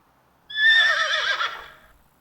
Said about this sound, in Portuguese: É um cavalo. Um cavalo.